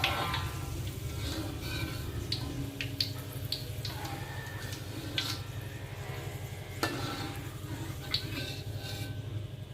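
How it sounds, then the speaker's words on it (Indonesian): Flattened beef frying in a pan for dendeng with potatoes, a steady low sizzle and bubbling throughout with occasional sharper crackles and stirring clicks, close and continuous, no voices. "Oke, kita mulai goreng dagingnya."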